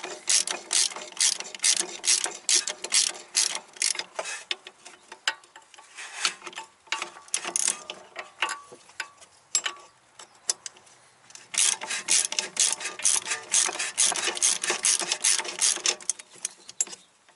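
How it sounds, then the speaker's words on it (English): A ratchet wrench turns a bolt on a 2011 Audi Avant, close and clear, in repeated bursts of rapid clicking separated by short pauses, with no talking. "cram your 18 wrench in the back of it."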